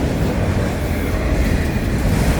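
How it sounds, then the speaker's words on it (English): A Florida East Coast Railway intermodal freight train bound for Fort Lauderdale rolls past close by, a loud continuous rumble of wheels and cars with faint rhythmic rail clatter. "after the auto racks, Fort Lauderdale Intermodal. Here it comes."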